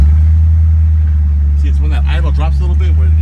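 A 1957 Ford Fairlane Sunliner convertible idles with a steady low rumble close by, while someone talks over the engine.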